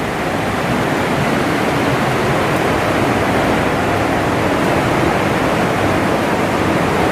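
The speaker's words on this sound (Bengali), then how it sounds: "রাস্তাটা ভেজা, পাথরের মধ্যে থেকে চিড়িয়ে চিড়িয়ে জল পড়ছে।" Water splashing and trickling down the rock walls of Partnach Gorge, a wet, narrow footpath. A steady, dense rush with no breaks, loud and close, and no voices over it.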